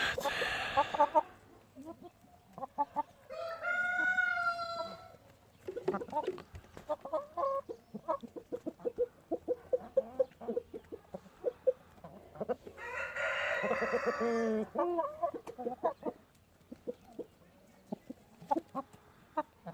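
Chickens cluck and squawk in bursts, with a rooster-like crowing call rising twice, close by over a steady low farmyard hum.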